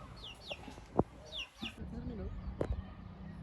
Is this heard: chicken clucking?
yes